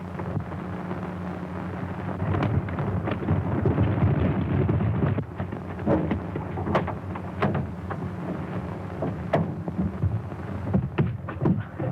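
An airplane motor warming up gives a dense, steady roaring drone with occasional sputters and pops, loud and close with no talk.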